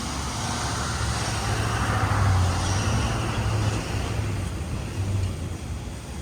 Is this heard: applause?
no